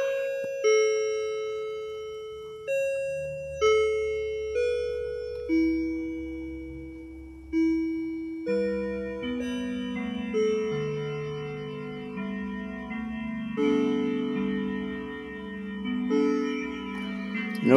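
A Daniel Dakota mantel clock plays its chime through an amplifier, a clear melodic sequence of struck bell tones, each note ringing and decaying before the next, continuing steadily and loudly for the whole stretch with no talk.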